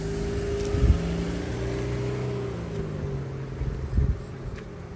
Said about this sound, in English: So you hear the car, I think.